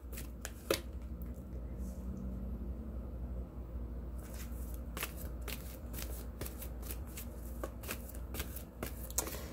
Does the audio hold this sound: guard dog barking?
no